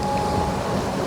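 Strong wind buffets a drone's microphone in a steady, loud, broadband roar with no break, recorded while the drone flies over a muddy river being dredged.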